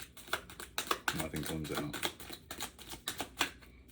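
A tarot card deck is shuffled during a reading, a run of quick crisp riffling snaps and taps in an irregular rhythm, close and fairly quiet, with someone talking briefly over it.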